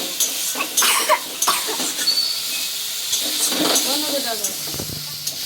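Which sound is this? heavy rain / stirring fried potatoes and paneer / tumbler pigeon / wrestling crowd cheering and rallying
stirring fried potatoes and paneer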